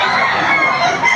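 Young roosters (stags) of a talisain breed crowing at a rainy poultry market in Bocaue, Bulacan, a dense chorus of overlapping loud calls and clucks with no gaps.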